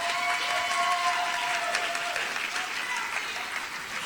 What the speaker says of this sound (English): Let's give a round of applause for Ms. Caitlin Deal, Phoebus High School Teacher of the Year.